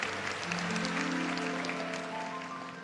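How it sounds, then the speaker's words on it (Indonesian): Congregation clapping during a morning church worship and prayer service: a steady wash of applause under sustained musical tones from instruments or singing. "Berikan tepuk tangan untuk Tuhan Yesus."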